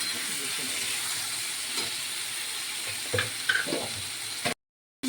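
Drumsticks and potatoes stirred in a pan with a little water for a poppy-seed curry, a steady steamy hiss and sizzle with a few soft scraping clatters of the spoon, close by, before a brief cutoff.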